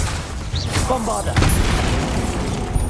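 A Bombarda blasting spell explodes in Hogwarts Legacy during a hard-difficulty trial, a loud booming blast with rumbling debris that sustains for a few seconds over continuous combat noise, with a voice talking over it.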